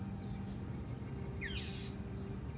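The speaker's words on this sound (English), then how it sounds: "as you can hear, the birds are having a gay old time also" A crow caws once over a quiet, low outdoor background hum, the harsh call standing out briefly in the middle.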